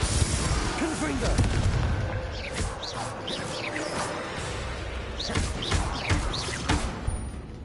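Repeated booming blasts and crackling bursts from a Confringo fire spell in the Hogwarts Legacy video game, several impacts spread across the clip amid dense battle noise, loud and continuous.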